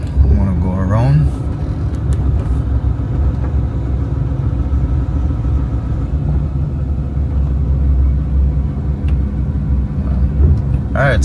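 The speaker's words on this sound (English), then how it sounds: "that's pretty much driving through the airport" Car driving through an airport pickup area, a steady engine and road rumble running throughout, with someone talking over it.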